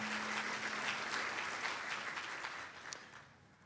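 An audience at a 2012 school awards evening applauds school board members, a dense wash of clapping that holds steady and then gradually fades toward the end.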